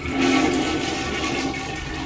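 A toilet in basic island lodging on Samal Island flushes with a steady, close rushing of water that holds at an even level for about two seconds.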